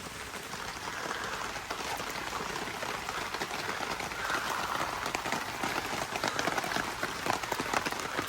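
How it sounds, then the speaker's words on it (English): Steady rain patters down on a campsite in Great Smoky Mountains National Park, a dense, even hiss of drops on surfaces with no speech. "But it's been raining now a good hour and a half."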